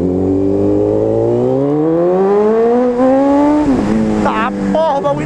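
A Honda CB 1000 motorcycle with a modified connecting rod setup accelerates hard, its engine note climbing steadily in pitch, dipping briefly at a shift, then revving up again, loud and close throughout.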